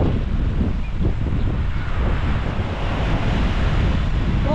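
Sea waves crash and wash along a beach in Odesa after a storm, a loud continuous surf roar mixed with wind buffeting the microphone and no voices.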